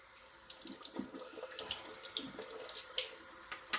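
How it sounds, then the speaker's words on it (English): Crystals are rinsed under a running tap, a steady close hiss of flowing water splashing over stones in a sink, with no talk. "You just rinse them underneath the tap."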